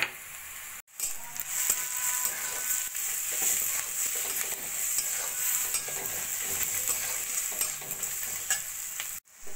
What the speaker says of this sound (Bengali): এবার ভালো করে মশলাটা একটু কষিয়ে নেব